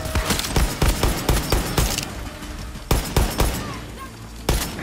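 Rapid bursts of gunfire in the video game Far Cry 6, sharp repeated shots in an irregular rhythm, loud and close, with a short lull before a final shot.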